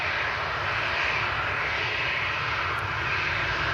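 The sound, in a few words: TUI Dreamliner jet entering runway at Manchester Airport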